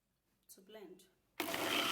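A brief voice is followed by a blender whirring to life, a loud dense roar that starts abruptly and holds steady.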